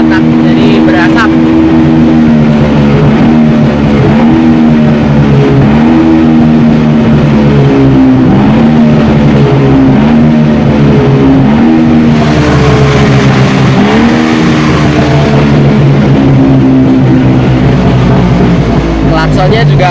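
A Suzuki ST20 two-stroke pickup engine revs loudly and steadily up close, its throttle rising and falling in repeated surges over a constant harmonic drone, with a voice faintly underneath.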